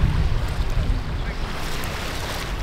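Steady surf washes onto a beach, a continuous rumbling roar of waves mixed with wind buffeting the microphone, loud and close with no break and no voices.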